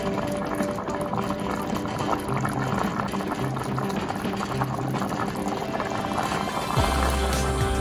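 A pork pot roast sauce boils hard in a pot on the stove as it reduces, a dense, steady bubbling close by, with a low rumble joining near the end and no voices.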